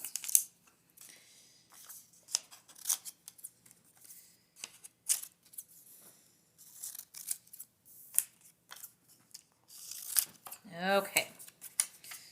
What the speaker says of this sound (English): So I'm going to cut mine out